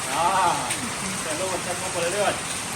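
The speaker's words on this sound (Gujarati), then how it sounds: "ધોધમાર વરસાદ ચાલુ થઈ ગયો છે" Heavy rain pours steadily outside as a dense, continuous hiss, with family members talking over it close by.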